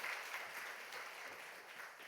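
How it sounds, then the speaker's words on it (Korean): A church congregation applauds a vocal ensemble at a Thanksgiving Sunday service, a brief wash of dense clapping, even and moderately quiet, with no voices over it. "박수 한 번만 더 해주세요."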